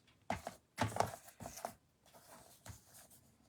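Cardstock is cut down to size for a stamped card, giving a few close, crisp slicing and rustling strokes in uneven bursts with quiet pauses between them.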